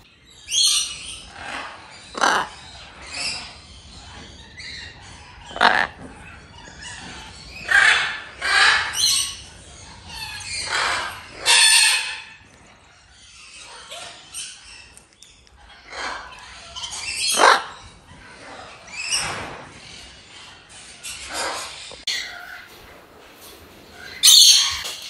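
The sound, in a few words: macaws squawking in an aviary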